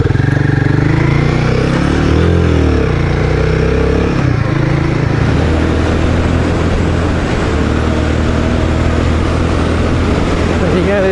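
A Royal Enfield Guerrilla 450 motorcycle ridden fast on a dirt road at about 100 km/h, its engine a loud, steady roar blended with heavy wind rush, with a brief rising and falling pitch near the start.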